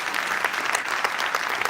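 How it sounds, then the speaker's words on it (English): An audience at a principals' conference valedictory gives a round of applause, a dense, even wash of many hands clapping with a few sharper claps rising above it. "I request you to greet him with a huge round of applause"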